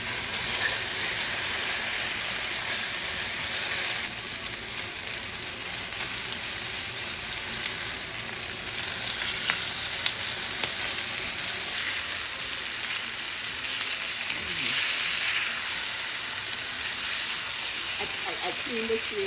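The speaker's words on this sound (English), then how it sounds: "put it in the pan to saute a little bit" Seasoned shrimp sautéing in a pan with sesame oil, olive oil, pepper and flour, giving a constant loud sizzling hiss that runs unbroken for the whole stretch.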